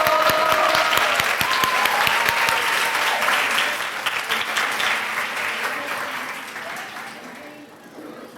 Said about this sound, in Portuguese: Vamos bater palmas de novo.